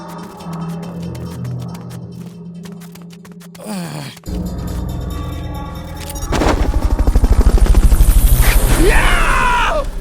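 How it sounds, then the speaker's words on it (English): Fulton recovery helicopter in the video game Metal Gear Solid Peace Walker, loud rotor and engine roar with game effects and music, a sharp cut partway through, then a swelling, thudding helicopter sweep. "Fulton recovery helicopter is complete."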